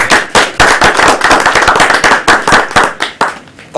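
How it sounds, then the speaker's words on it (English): Dense, loud clapping from the audience at a Toastmasters club meeting, a continuous burst of sharp claps with no voices over it. "Carol, let's give our Toastmaster, or Toastmistress for today, a round of applause, Carol."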